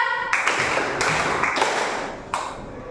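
A few sharp hand claps ring out in a steady rhythm in a classroom over a constant rushing background noise.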